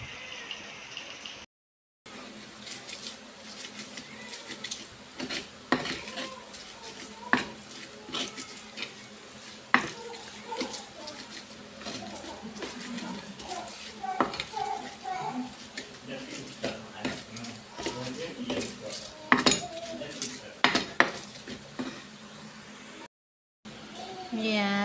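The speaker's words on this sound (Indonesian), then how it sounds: "aku mau bikin sambal dan cabenya sama bawangnya tuh aku goreng dulu" Fried chilies and shallots are ground for sambal with a stone pestle in a mortar, making repeated scraping, knocking strokes close by over a long stretch, with children's voices chattering in the background.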